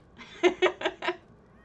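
A cat lets out four short, quick meows in a row, close and moderately loud, with quiet room tone before and after.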